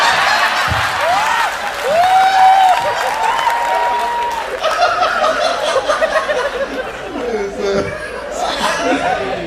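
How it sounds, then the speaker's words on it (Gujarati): Studio audience at a live Gujarati comedy talk show clapping and laughing for a guest, a dense steady wash of applause mixed with chuckles and crowd chatter, with voices talking over it throughout. "A big round of applause"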